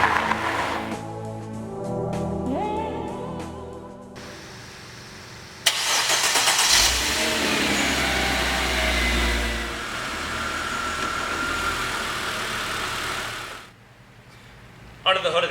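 Supercharged 3.2-liter hand-built V6 of a Mercedes-Benz SLK32 AMG cranking and firing up, then settling into a steady idle with a short throttle blip, heard partly under someone talking.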